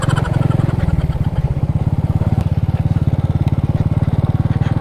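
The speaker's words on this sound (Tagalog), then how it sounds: "Umatalon-talon yung motor ko ah." A motorcycle rides over a rocky road at a farm resort in Baras, Rizal, its engine a loud, steady, close throb with rapid rhythmic pulsing throughout.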